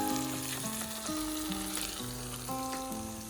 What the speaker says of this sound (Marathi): मसाला टाकलेला आहे तेल टाकलेलं आहे परतून घेतायत धूर खूप झालेला आहे